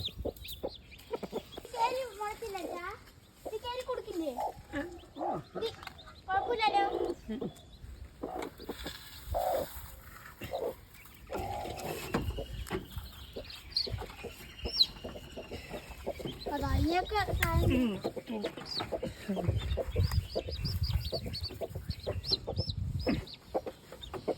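A mother hen that has just hatched her chicks clucks repeatedly and close by, in short uneven bursts throughout, over a busy background with faint voices.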